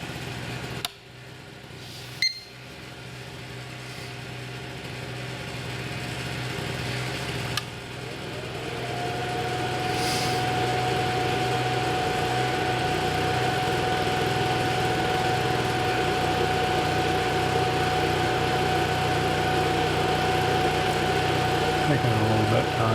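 A generator engine runs steadily on half choke as it warms up, a continuous mid-level drone that rises slightly and settles into a constant hum, with a few knocks early on.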